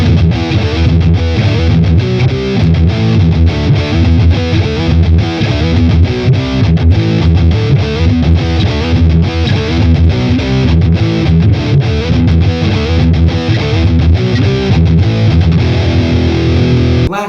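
Electric guitar played through the metal distortion on a Boss Katana amp, a dense, heavily saturated high-gain tone chugging steadily and loud for the whole stretch, with no voices.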